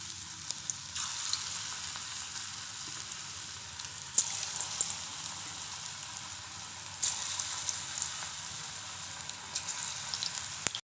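Moong dal pakora batter drops into hot refined oil in a wok and fries with a steady, crackling sizzle, with brief louder bursts as more batter goes in. Nobody speaks.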